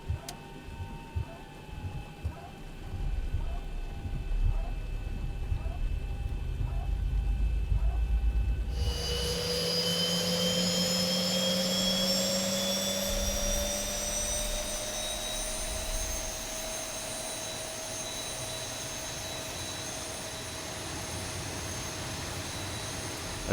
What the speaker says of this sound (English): Okay, so we'll go ahead and start engine number 2.